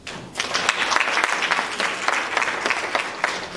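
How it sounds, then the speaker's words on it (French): An audience applauds the participants of a women's network training workshop at a foundation in Yamoussoukro, a steady wash of many hands clapping close by that stays dense and even throughout. "Je souhaite qu'on vous applaudisse."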